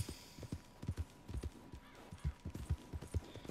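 Horse hooves clip-clop in a video game, a quick uneven run of close, fairly soft hoofbeats on hard ground with no talking.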